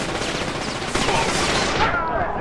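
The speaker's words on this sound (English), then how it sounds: "This shotgun has absolutely no accuracy to it." A shotgun fires in the video game The Darkness: dense bursts of gunfire blasts packed closely together, loud and continuous over the short span, with a brief spoken word mixed in.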